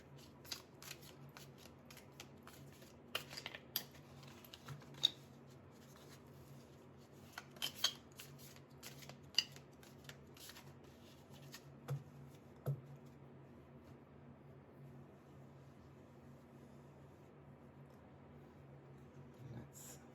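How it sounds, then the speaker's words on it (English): Tarot cards being shuffled by hand, quiet scattered flicks and riffling snaps in irregular bursts over near silence, thinning out in the later part. "Let me go ahead and shuffle the cards."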